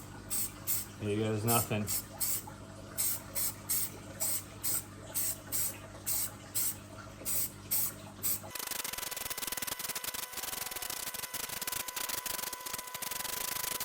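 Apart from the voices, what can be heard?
spray painting boat hull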